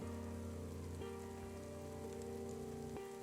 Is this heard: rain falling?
yes